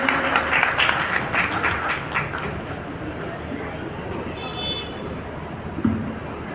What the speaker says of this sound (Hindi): एक बार जोरदार ताली से आप लोग सर जी का स्वागत कर दीजिए